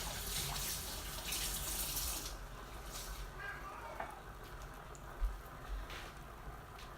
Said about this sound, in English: I'll take this time to rinse off my knife that I'm going to use for cutting the broccoli